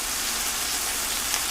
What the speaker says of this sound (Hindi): तभी बहुत जोरों की बारिश होने लग जाती है।